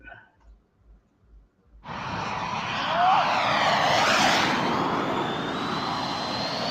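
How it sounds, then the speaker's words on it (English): An RC model F-14 jet flies at the Bigfoot event, a loud turbine roar that swells in suddenly after a few soft thumps, with a sweeping pass and a thin rising whine overhead. "a picture or another video of David flying his F-14 at Bigfoot"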